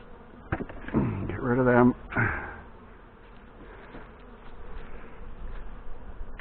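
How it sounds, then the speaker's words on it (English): Wasps buzz in a busy, wavering drone around a beehive that is being combined, with someone speaking briefly over the insects. "And there's more wasps."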